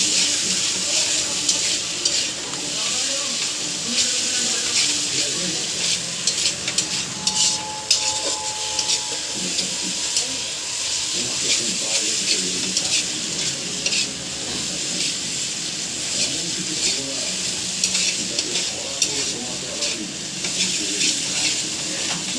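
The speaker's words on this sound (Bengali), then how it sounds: "মশলা কষানো হয়ে গেছে, আমি এবার জল দেব।" Water goes into a pan of fried spice paste, which sizzles steadily and loudly. A spoon scrapes and stirs the pan now and then throughout, close up, with hissing steam.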